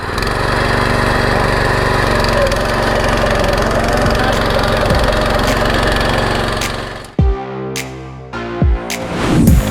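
A Golden Horn rotary tiller's engine revs loud and close, a continuous throbbing drone that cuts off sharply near the end and gives way to clanks and brief engine bursts.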